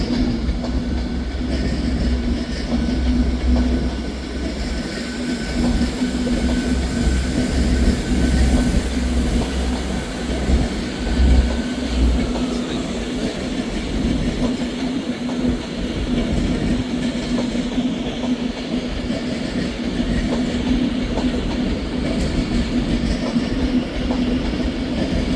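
Avanti West Coast Class 390 train pulling out of Edinburgh Waverley station, a steady low rumble with a sustained engine hum and faint wheel clatter, continuous and fairly close, no voices.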